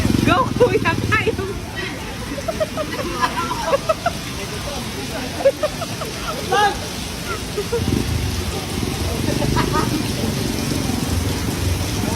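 Steady rain patters on a surface throughout, with people chattering and calling out nearby over the downpour.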